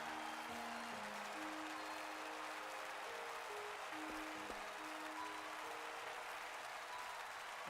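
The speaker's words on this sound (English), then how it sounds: "the pair left the stage, with a sound of thundering applause." Thundering crowd applause as two dancers leave the stage in the Octopath Traveler 2 video game, a steady dense wash of clapping that sustains throughout under a quiet, low melodic musical line.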